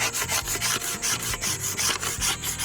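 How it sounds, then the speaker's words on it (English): A paint scraper shaves a wooden longbow stave in short, rhythmic scraping strokes, close and fairly soft, with no talking. "I'll go in there with this paint scraper"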